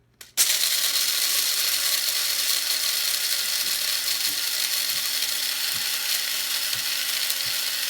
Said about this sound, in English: So I'm going to go ahead and set the grinder.